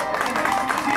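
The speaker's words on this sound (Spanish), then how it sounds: "Fuerte el aplauso para él." Crowd applause greets a deputy arriving at a Christmas tournament uniform handover, a brief burst of dense, steady clapping and crowd noise at close range.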